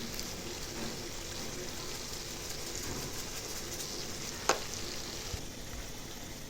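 Onion pieces and green chillies frying in hot oil make a continuous soft hiss and crackle, with one sharp utensil clink near the end.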